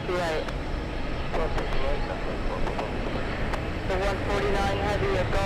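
A British Airways airliner departs JFK for London, a steady broadband jet rumble and whine at moderate distance, mixed with voices and radio chatter.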